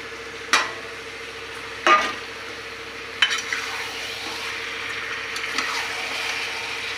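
Marinated chicken and potatoes sizzle in a pan for a chicken curry, a low steady frying hiss broken by three or four clear scraping stirs of a spoon against the pan.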